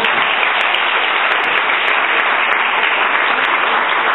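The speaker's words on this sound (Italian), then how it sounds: "Do un applauso al maestro." Steady, dense applause from an audience honoring a music teacher, a continuous wash of clapping at even loudness throughout, slightly muffled and with no voices heard.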